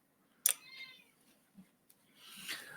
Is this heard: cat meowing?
yes